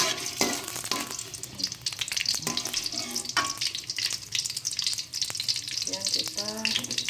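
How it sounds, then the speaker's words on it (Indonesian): Sliced garlic sautés in hot frying oil with a steady crackling sizzle, broken by scraping stirs and a few clinks of the utensil against the pan. "Oke, kita tumis minyak goreng. Kita masukkan bawang putih ya, yang sudah diiris."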